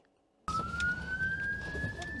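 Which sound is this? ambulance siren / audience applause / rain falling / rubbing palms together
ambulance siren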